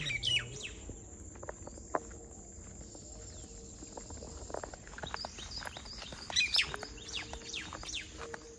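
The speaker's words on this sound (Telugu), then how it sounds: "ఆ బర్డ్ అట్లా సౌండ్ చేస్తుంటే నాకైతే వెల్కమ్ చెప్తున్నట్టే అనిపిస్తుంది." A bird calls at sunrise near a cashew grove in a coastal village, with a few sharp chirps near the start and again around six seconds over quiet outdoor ambience and soft footsteps.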